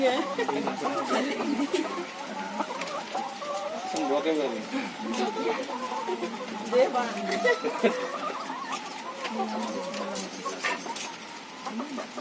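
Chickens clucking at a village farm visit, a steady mix of clucks and bird chatter running under nearby conversation throughout.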